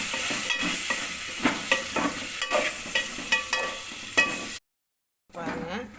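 Potatoes and eggplant sautéing in a pan, with a steady sizzle and repeated scraping stirs, before a brief break and a quieter patch of frying.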